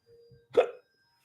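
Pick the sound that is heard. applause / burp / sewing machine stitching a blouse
burp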